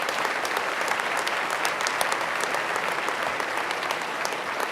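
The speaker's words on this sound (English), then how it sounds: "a great round of applause for everybody" Dense, steady audience applause fills a hall during a governor's budget presentation, many hands clapping loudly and continuously without a break.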